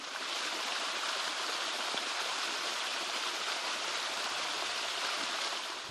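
Steady, dense rush of rain and running water in muddy, flooded frontline trenches turned into streams, continuous and even with no voices.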